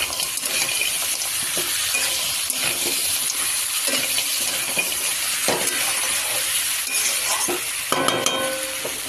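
Continuous sizzling as raw, unboiled soybean chunks are sautéed in a pan, punctuated by repeated scraping and stirring clinks.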